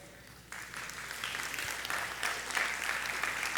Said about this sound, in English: The 9 o'clock people clap louder to that